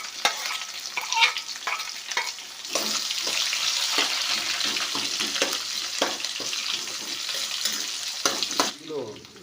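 Finely chopped onions hit hot oil with browned urad dal for a broad bean fry, giving a loud, continuous close sizzle broken by the scrape and clatter of stirring throughout.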